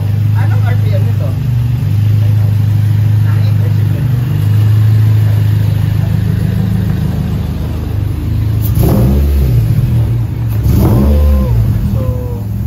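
A car engine idles with a steady low hum, then revs up twice in quick bursts near the end, close and loud, with people talking over it.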